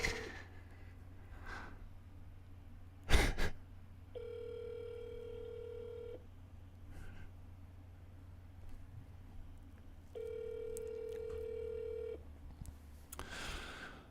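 A phone call rings out over the line in two long, steady ringback tones several seconds apart before going to voicemail, with a sharp thump near the start and faint room noise between rings.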